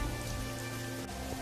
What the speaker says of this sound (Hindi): लेकिन बारिश थी कि रुकने का नाम तक नहीं ले रही थी।